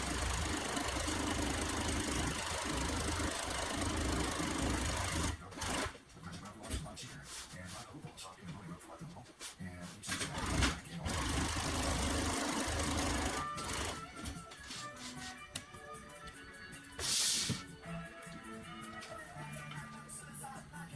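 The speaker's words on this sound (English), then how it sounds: "I'm going to double sew it down again with 10 thread." Sewing machine running double rows of stitching along the bottom of a Fourwinds enclosure cover in size 10 thread, a loud, close, steady mechanical whir in long runs broken by short pauses and shuffling handling.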